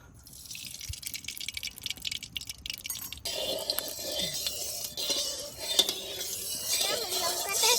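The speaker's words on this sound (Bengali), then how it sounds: "শাকটা ভাজা করে নেবো কড়াইতে আমি একটু সর্ষের তেল দিয়ে দেবো" Greens frying in mustard oil in a wok on a village cooking fire: quiet dripping and clinks at first, then a loud, steady sizzling hiss erupts partway through and keeps crackling to the end.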